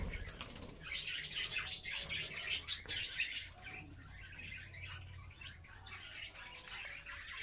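A budgerigar gives bright, rapid chirps and flutters its wings while a clip ring is fitted to its leg. The sound is close and continuous for several seconds and fairly soft overall.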